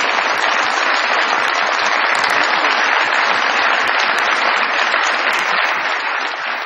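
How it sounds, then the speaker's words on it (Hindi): Steady, dense applause from a studio audience at a comedy show welcoming a guest, loud and continuous throughout with no talk over it. "बहुत सारी तालियों में इनको भी वेलकम कीजिएगा"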